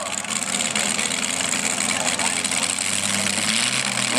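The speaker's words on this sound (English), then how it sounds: "Motor 540 cubic inches, Allen Johnson motor" A 540 cubic inch Allen Johnson pulling engine, around 1,000 to 1,300 horsepower, idles at a Southern Pullers Association tractor pull in Tifton, Georgia, with a steady loud rumble throughout and a shift in pitch near the end, over crowd and announcer noise.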